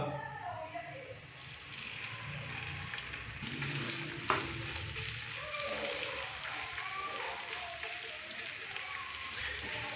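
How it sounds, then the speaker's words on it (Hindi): Ginger garlic paste sizzling and crackling in hot oil, a steady frying hiss that swells slightly after a soft clink, with someone talking over it. "अभी मैं इसके अंदर 1 टीस्पून अदरक और लहसुन का पेस्ट डालूंगा।"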